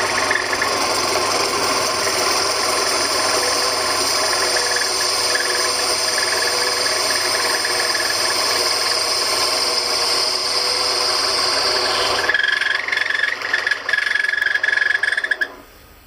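Lathe with the tailstock locked cutting a workpiece in half, a loud steady machine whine and hum running for several seconds before the pitch shifts and then spins down and stops.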